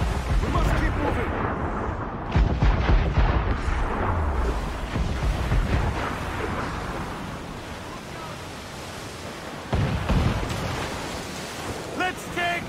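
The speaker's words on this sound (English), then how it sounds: "Mortar incoming!" Mortar fire during a naval battle in Assassin's Creed Black Flag: heavy booming blasts land twice amid a constant roar of wind and surf, with shouted crew voices mixed in.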